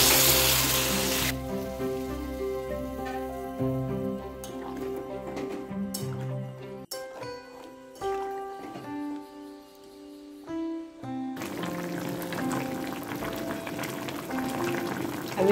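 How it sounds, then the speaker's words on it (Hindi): Water hits a hot pan of fried soybean chunks and potatoes and sets off a steady, close, bubbling sizzle that fades, then surges again near the end, with no talk over it. "सोयाबीन के साथ आलू फ्राई हो जाने के बाद मैं इसमें ऐड कर रही हूँ पानी।"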